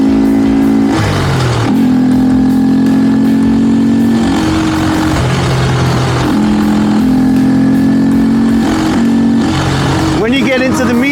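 A Honda Grom motorcycle with a performance mod revs close and loud, its engine pitch climbing and falling in repeated throttle blips under steady idle, with a voice talking over it.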